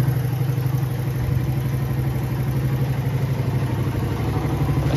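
A Suzuki Satria FU motorcycle, an old neglected bike brought back to life, idles steadily at close range with a rapid, even putter and some mechanical clatter, with no talk.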